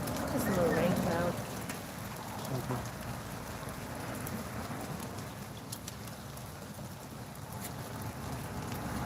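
Rain pours steadily outdoors, a constant soft hiss of drops on surfaces with a brief louder patter near the start and faint scattered ticks throughout.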